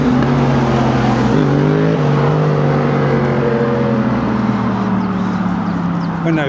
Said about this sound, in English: when those noisy motorbikes have gone.